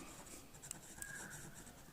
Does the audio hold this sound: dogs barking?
no